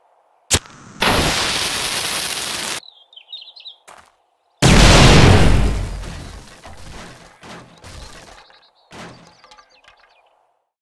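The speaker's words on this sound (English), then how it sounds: "Explosions." Loud explosive blasts with long rumbling decays, separated by sharp single bangs, with faint chirping sounds in the gaps.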